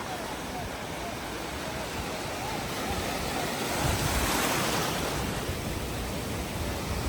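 Strong ocean surf pounds a beach where fishermen haul a net, a continuous roaring wash of breaking waves with wind buffeting the microphone, swelling louder midway through and never letting up.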